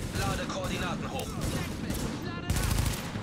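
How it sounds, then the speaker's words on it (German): Gunfire in Tom Clancy's The Division, a video game: dense bursts of automatic shots and rattling fire overlapping continuously, loud and close, with a heavier burst toward the end, under game voices. "Schüsse."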